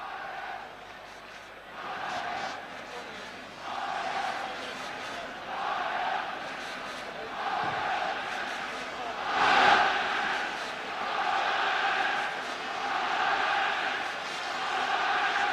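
Stadium crowd of 65,000 at the Olympic Stadium, built for the 1928 Olympics, awaiting Ajax and Nottingham Forest; a steady distant roar with rising waves of chanting and a louder swell midway.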